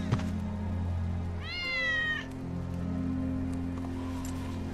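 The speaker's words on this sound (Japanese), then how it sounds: "ウェッジの猫だ。" Wedge's cat in the video game Final Fantasy VII Remake gives a single clear meow lasting under a second, set over a quiet, steady background drone of game ambience.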